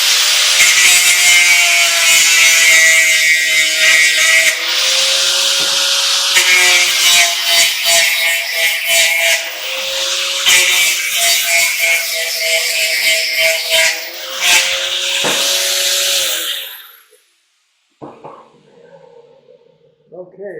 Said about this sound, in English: I'm going to take a grinder to the top here and make sure that that's true